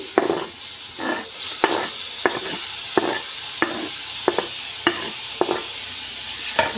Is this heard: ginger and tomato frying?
yes